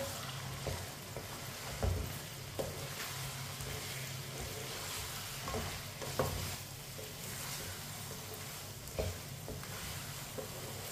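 A spoon stirs a chicken biryani mixture in a pot, giving soft scraping strokes at irregular intervals over a low continuous sizzle, close and fairly quiet.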